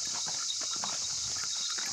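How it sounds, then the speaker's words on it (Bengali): A horse carries a rider downhill along a forest trail near Shimla, its hooves giving soft, irregular clip-clops under a constant high insect drone, faint and close. "সুন্দর ঘোড়া চড়তে চড়তে নামছি।"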